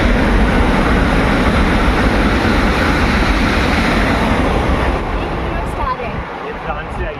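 A high-speed train heading for central London rushes past on the railway line at the end of a residential colony in the UK, a loud, close, steady roar that eases slightly in the final seconds.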